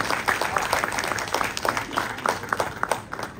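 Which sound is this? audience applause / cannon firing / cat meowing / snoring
audience applause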